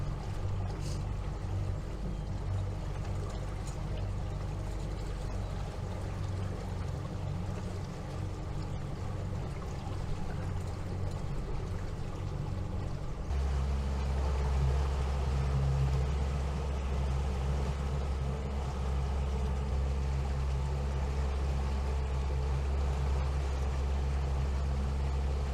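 Motorboat cruising slowly on the St. Croix River at about 2,000 RPM, a steady engine drone with water rushing past the hull; partway through the low engine hum grows stronger and steadier.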